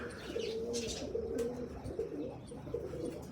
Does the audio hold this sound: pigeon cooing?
yes